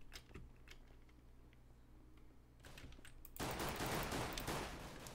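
Gunshots in the Minecraft shooter Minestrike: a few scattered shots early, then a loud dense burst of rapid fire in the final seconds.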